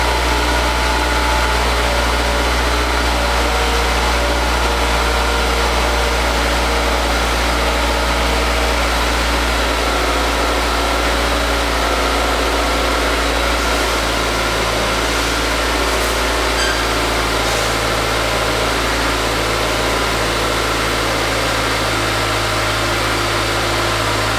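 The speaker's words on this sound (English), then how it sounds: "start the car up to make sure that there's no leaks" A car engine, a Honda S2000 with a newly installed catback exhaust, runs steadily at idle, a loud continuous rumble with broadband noise and no speech throughout.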